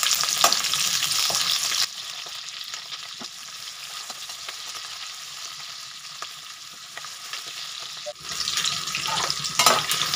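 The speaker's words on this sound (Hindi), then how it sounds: "इसी तेल में हम प्याज को फ्राई कर लेंगे" Onions frying on high flame in oil for a jackfruit do pyaza, a steady bright sizzle with scraping stirs throughout, louder at the start and near the end, no talking.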